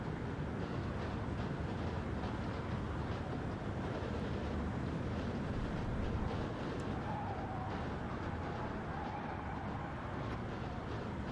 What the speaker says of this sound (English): the engine sound you're talking about, Stu, is a glitch